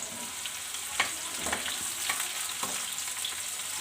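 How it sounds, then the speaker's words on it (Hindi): Onions frying in a kadai, a dense, even sizzle up close with a few light spatula taps and scrapes scattered through it, no voices. "प्याज फ्राई कर लेते पहले अच्छे से।"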